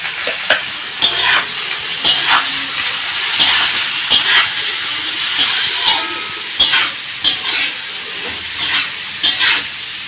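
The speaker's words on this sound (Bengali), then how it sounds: "তারপরে গাজরটা ভাজছি," Carrots for fried rice frying in a pan give a bright, continuous sizzle, broken by repeated scraping and clattering strokes of a spatula at irregular intervals.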